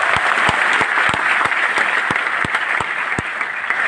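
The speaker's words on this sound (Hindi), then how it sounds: "एक बार जबरदस्त तालियां हो जाए।" A crowd applauds at a Teachers' Day celebration in Patna, with steady dense clapping throughout and some louder individual claps standing out near the front.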